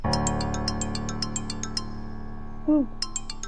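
A mobile phone rings with a repeated electronic chime, short bright tones pulsing in a quick pattern at moderate volume over a low background hum, with a brief pause before the ringing resumes.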